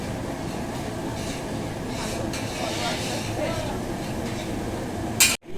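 Chopped onions fry in a large kadai for a meat curry cooked for a ceremonial feast, giving a steady, dense close-up sizzle throughout, with a brief clatter and an abrupt dip near the end.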